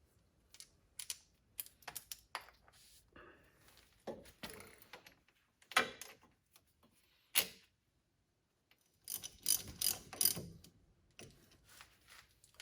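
A ratchet wrench driving an 11mm banjo bolt into a brake hose fitting on a Saturn Vue, heard as short clusters of close, crisp clicks separated by quiet pauses.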